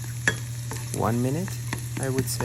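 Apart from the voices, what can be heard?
stirring eggs in a hot non-stick pan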